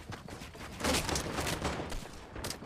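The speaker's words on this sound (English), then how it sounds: "Pump shotgun out, by the way." Pump shotgun in the video game Fortnite, with faint, muffled game gunfire and bursts of busy action sounds running together for a few seconds.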